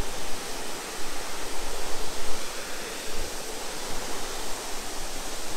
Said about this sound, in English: That's a cool waterfall